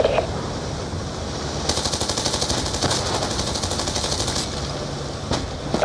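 Call of Duty: Black Ops 2 combat with sustained automatic gunfire, rapid machine-gun bursts rattling continuously over a dense, loud battlefield roar.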